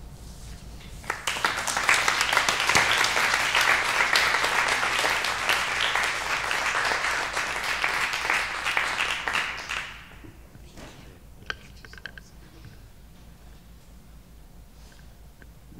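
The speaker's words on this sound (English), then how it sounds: "that was a weak clap for that presentation" Audience applause after a church presentation, a steady wash of many hands clapping for about nine seconds that then stops abruptly, leaving a quiet room with a few scattered faint claps.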